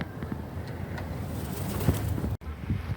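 Soft, low pigeon coos repeat a few times against quiet outdoor background noise, with a brief dropout near the end.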